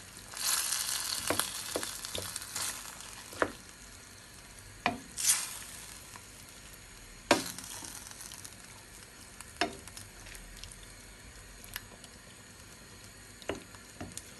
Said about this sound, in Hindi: अभी इसका तेल ऊपर आना शुरू हो गया, तो अभी इसमें आलू भी थोड़े थोड़े अपने सेटल होना शुरू हो गए